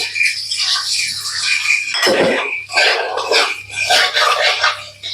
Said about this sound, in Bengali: স্টার অ্যানিস চারটে এলাচ লবঙ্গ দারচিনি দু চারটে মরিচ এগুলো আমি ফোড়নে দিয়ে দিচ্ছি